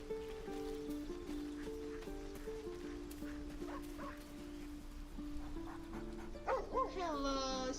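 A dog in the fantasy role-playing game Baldur's Gate 3 barks and whimpers near the end, short yips and whines rising over a sustained game music drone.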